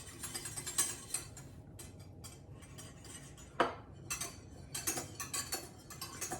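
A spoon stirs yogurt in a bowl, giving soft repeated scraping and light clinks against the bowl in an irregular rhythm, fairly close and quiet.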